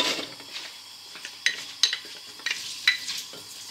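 Onions in a pan sprayed with Fry Light, a soft sizzle with a few sharp metallic clinks and scrapes of a utensil against the pan, fairly quiet and close.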